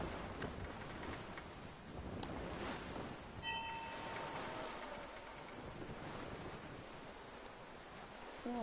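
Atlantic Ocean waves and wind in Assassin's Creed 3, a steady broadband wash of surf and gusts at sea, with a brief creak or chime partway through.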